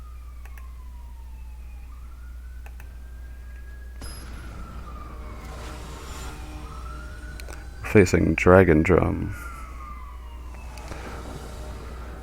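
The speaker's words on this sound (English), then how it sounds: "apparently we have an ambulance going down the street" An ambulance siren wails as it passes down the street outside, its rising and falling tone faint and distant under a steady hum, with a louder burst of speech partway through.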